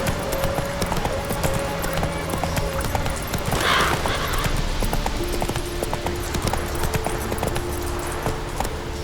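Geralt's horse Roach galloping in The Witcher 3: Wild Hunt, a steady rhythmic clip-clop of hooves throughout, with a brief whinny midway and tonal music underneath.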